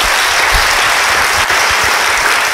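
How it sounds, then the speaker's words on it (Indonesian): A church congregation applauds loudly and continuously, dense clapping from many people filling the whole short stretch with no speech over it. "Yang mau beri tepuk tangan bagi dia."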